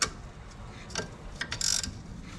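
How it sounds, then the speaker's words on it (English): A ratcheting wrench turning a 12 mm alternator bolt, producing a few short, close mechanical clicking bursts with a brief rapid ratchet run, quiet and alone. "and I'll use a ratcheting wrench"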